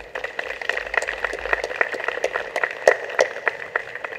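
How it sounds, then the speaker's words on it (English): An audience at a lecture event gives a round of scattered applause, individual claps audible as a moderate, uneven patter at some distance. "I'd like you to join me in giving a round of applause to Dr. Robinson."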